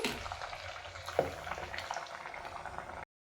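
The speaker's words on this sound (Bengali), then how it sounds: "বাকিগুলো ঠিক একই রকমভাবে এক এক করে ভেজে নেব" Raw potato snacks frying in hot oil give a steady, close bubbling sizzle with scattered small pops, cutting off abruptly near the end.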